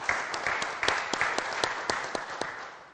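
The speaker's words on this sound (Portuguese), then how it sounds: "Vamos aplaudir a Fátima!" A TV show audience applauds a guest. The clapping is moderately loud and distinct single claps stand out from the crowd, then it thins and fades toward the end.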